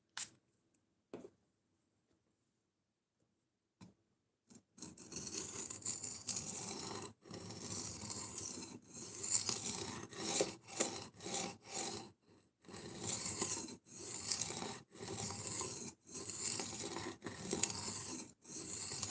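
Knife blade stroked back and forth on a low-grit sharpening stone, a harsh gritty rasp in rapid repeated bursts with brief gaps, close and fairly loud after a quiet opening with a few small knocks.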